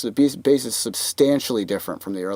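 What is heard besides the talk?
No everyday noises stand out.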